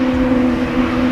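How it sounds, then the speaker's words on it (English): Embraer E2 jet engines at Amsterdam Schiphol Airport on a windy day give a loud, steady tonal hum with a low whale-like drone, continuous and alone. "Whale sounds emanating from the engines of the E2."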